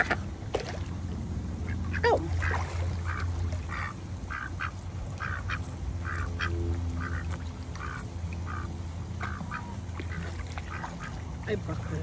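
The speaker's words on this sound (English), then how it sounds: "We're feeding for the duck." A duck being fed at a park quacks repeatedly in short bursts over several seconds, close by, while people talk nearby.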